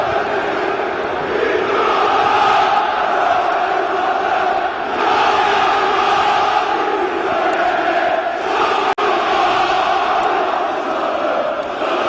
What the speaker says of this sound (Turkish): Fenerbahçe seyircisi şu an tribünde şov yapıyor.